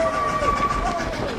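The Dollywood Express steam train, engine number 70, runs with a steady rumble and sustained whistle-like tones, heard from on board, with people talking underneath.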